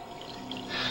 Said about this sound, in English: I hear the water all around me.